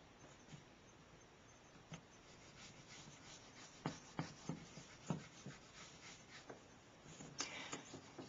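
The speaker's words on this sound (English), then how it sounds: "I'm going to draw my second line." A pencil drawing a line on paper, faint scratchy strokes that quicken into a short run of firmer scrapes near the end, close and quiet.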